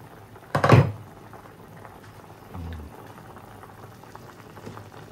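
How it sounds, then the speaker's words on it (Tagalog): A pot of Filipino chicken soup (tinola) bubbles at a steady simmer under a faint hiss of steam, interrupted by a brief clatter as if a lid is lifted or set down. "Kumukulo-kulo pa lang mga kamay."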